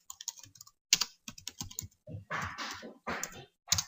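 Typing on a computer keyboard: quiet, close key clicks in irregular bursts with short pauses between runs, and no one speaking.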